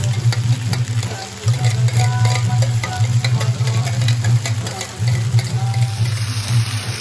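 Chicken frying in a pan over low to medium flame as a mixed sauce is poured in and stirred, a loud steady sizzle with a low rumbling undertone and brief dips as the spoon moves.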